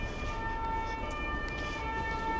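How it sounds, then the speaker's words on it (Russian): Ambulance siren on a street in Basel, Switzerland, a steady sustained wail holding continuously above loud street and traffic rumble for the whole stretch, with no voices. "Но скорая помощь такая же громкая или не такая?"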